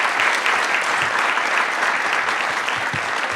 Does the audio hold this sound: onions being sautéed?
no